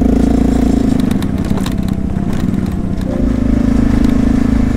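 Motorbikes and cars pass along a busy street in Vang Vieng, Laos, engines droning and revving close by, a continuous loud traffic wash with scraping, clattering road noise.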